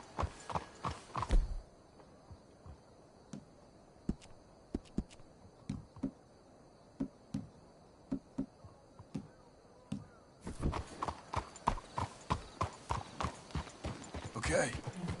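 Horse hooves clip-clop at a walk in Red Dead Redemption 2, sharp close hoof strikes in an uneven rhythm, thinning to sparse steps through a quiet stretch, then returning thick and busy with several horses.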